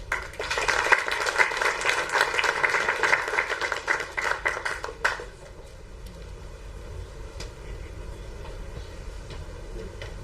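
A reunion audience of engineering alumni gives a round of applause, dense clapping for about five seconds that then drops away abruptly, leaving a low hum and scattered faint noise.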